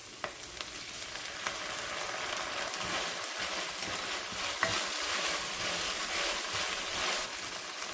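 Wood ear mushroom, egg and day lily being stir-fried in a wok, a steady close sizzle with scraping stirs and light clacks of the spatula, continuing alone without talk.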